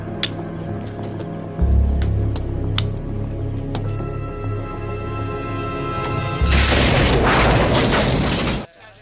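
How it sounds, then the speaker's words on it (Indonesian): A grenade blast in a war film erupts as a loud, deep boom with a rumbling roar, rising again into a dense crackling burst before cutting off abruptly, over a tense low musical drone. "tiba-tiba ada seorang yang melempar granat ke sana"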